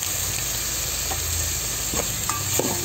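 Cubed chicken sizzles steadily in a hot pan, with a spatula scraping and stirring through the frying in soft intermittent knocks, close and loud with no voices.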